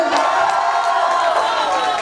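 Audience at a college fresher's party cheering loudly, a continuous roar of shouts and whoops with clapping mixed in, close and sustained throughout.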